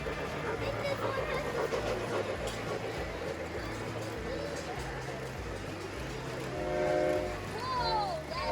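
O-scale model train running on a Midwest-themed club layout at a train show, a steady rhythmic clatter of wheels over rail joints with a horn-like tone near the end, amid crowd chatter.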